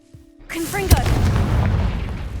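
Confringo fire spell cast in Hogwarts Legacy: a short magical whoosh and crackle sweeps in, then a heavy booming blast follows, leaving a rumbling tail that sustains to the end.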